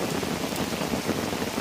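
Heavy rain falls during a fishing trip, a dense, steady hiss of downpour hitting the surfaces nearby, constant and close with no pauses and no voices.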